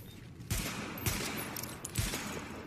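Three loud, close gunshots from target practice in The Division go off about half a second to a second apart. Each shot cracks sharply and then rings on briefly over a dense background.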